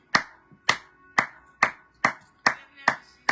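A church congregation claps in steady unison, seven sharp, loud claps spaced evenly about half a second apart, with no voices over them.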